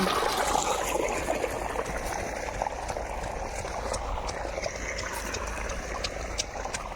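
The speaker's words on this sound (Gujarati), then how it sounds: "આ પાણી ચાલુ છે" Steady rushing water flows without a break, a full, close gushing sound like a tap or pipe running hard.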